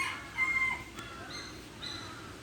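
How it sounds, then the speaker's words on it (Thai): A junglefowl calls in the distance at a forest temple in Surin, Thailand, a short crowing phrase followed by a couple of fainter, thinner calls over a quiet outdoor background. "เสียงที่ได้ยินคือเป็นเสียงไก่ป่านะคะ ไม่ใช่เสียงนกยูงนะ"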